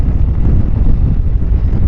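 Strong pre-rain wind gusts rush and roar continuously, buffeting the microphone with a loud, low rumble and no other sound.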